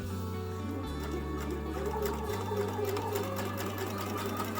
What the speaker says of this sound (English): These little dry mats are super easy to sew through.